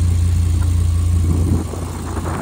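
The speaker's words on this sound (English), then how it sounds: "Idle's really smooth. Sounds really, really good." A 2011 Audi R8 5.2 Quattro with a gated manual and a 5.2-liter V10 idles smoothly close by, a steady low rumble that dips slightly partway through.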